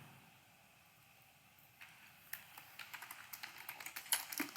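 Quiet room tone gives way to a burst of rapid typing on a computer keyboard, close and crisp clicks quickening over the last few seconds, with no speech.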